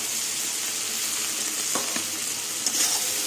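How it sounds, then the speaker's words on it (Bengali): Fried potatoes and shrimp stir-fried in a pan with turmeric, green chili and chili powder make a steady close sizzle, with a few spatula scrapes and knocks. "ভাজা আলু চিংড়ি মাছ দিয়ে আবার কষিয়ে নেবো ভালো করে।"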